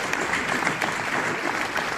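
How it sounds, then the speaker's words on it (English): Thunderous audience applause at a CREDAI MCHI real estate association launch event, greeting the arriving president-elect; dense, steady clapping from a crowd fills the moment without any talking. "please welcome with us a thunderous round of applause"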